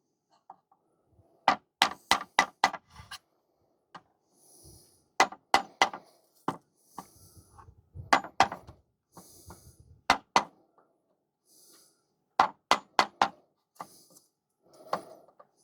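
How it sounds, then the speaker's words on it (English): A chisel cutting out a section of a wooden front-door architrave, with sharp taps and knocks in irregular bursts separated by quiet gaps, close by and without talk. "I'm going to chisel out this section here."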